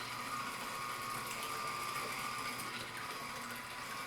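An electric citrus reamer juicing oranges hums and whirs steadily with a faint ratcheting mechanical texture, continuous and fairly quiet, with no voices.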